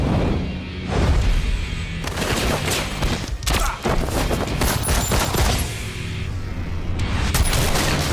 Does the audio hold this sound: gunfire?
yes